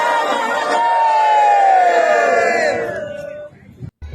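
A large crowd of Hindu pilgrims at Kedarnath shouts a sustained, rising chant in unison, loud and close. It fades after about three seconds, followed by a short pause.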